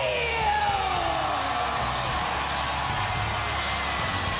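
A capacity stadium crowd at a WWE wrestling event at Melbourne Cricket Ground roars and cheers steadily through an entrance, a continuous wash of yelling and whooping with a commentator talking over it.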